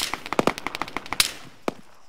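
Rapid automatic rifle fire in an Arma 3 battle royale match, a loud close burst of about a dozen evenly spaced shots followed by a single later report.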